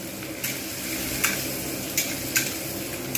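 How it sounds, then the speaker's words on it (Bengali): Onion frying in oil in a pan gives a steady, close sizzle, broken by a few sharp scraping stir strokes, with no talk. "কথা বলতে বলতে পেঁয়াজটা ভালোভাবে ভাজা হয়ে গেল"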